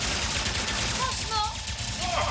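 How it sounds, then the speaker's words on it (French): Burst-fire gunshots ring out in the video game Ratchet & Clank: Rift Apart, a dense volley of rapid shots mixed with game effects, with a voice talking over part of it. "Ah bah en plus, ça tire en rafale"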